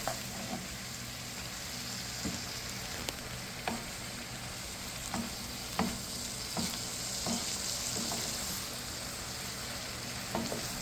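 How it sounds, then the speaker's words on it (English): Corn, sweet peppers, carrot and chili being stirred in a pot on the stove, a steady sizzling cook with scattered scraping clicks of the spoon every second or so, close and alone without talk. "So I'm just mixing it up and giving a really good turn up so that everything is even."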